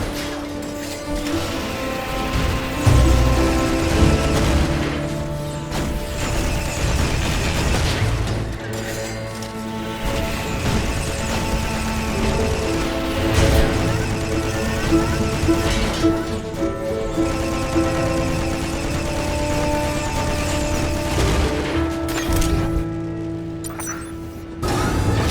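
Missile turrets fire and explosions crash and boom in the space shooter game RiftStar Raiders, layered thickly over a constant bed of music and engine drone with no pause throughout.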